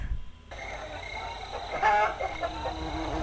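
Black chickens in a village in the video game Reksio i Skarb Piratów cluck in short bursts against steady game background ambience, with a brief louder squawk midway.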